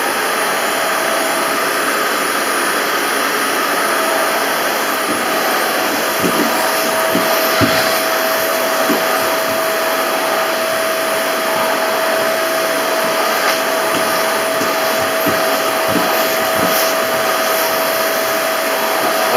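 A powerful vacuum cleaner drones steadily and loudly throughout, with a high whine and occasional bumps and rustles as it moves over a mattress.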